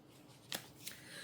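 A deck of tarot cards riffles briefly in two quick, crisp bursts, close and fairly faint, with no talking.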